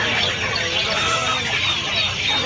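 Several Aseel cross and country chickens cluck and chatter continuously amid a busy, noisy market background in Pallavaram, Chennai, close and fairly loud.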